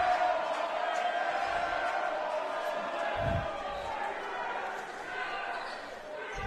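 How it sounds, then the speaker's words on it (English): An arena crowd roars and jeers continuously, loud and sustained, with a few louder swells, as fans react during a college basketball semifinal game. "Crown crowd letting that kid hear it."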